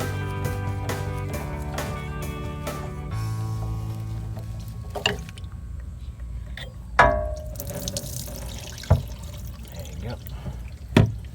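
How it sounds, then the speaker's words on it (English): Diesel fuel drips and trickles from a removed AirDog fuel filter on a 2010 Dodge Ram 2500, with scattered small splashes and clinks over a steady low hum, while someone talks throughout. "Catch that fuel as it comes down."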